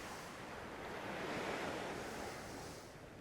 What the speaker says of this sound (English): it's a rough sea, it's a strong sea